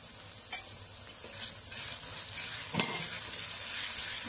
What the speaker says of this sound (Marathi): यात मी आता मसाले घालून घेते। हळद, गरम मसाला आणि आगरी कोळी मसाला घेतलेला आहे।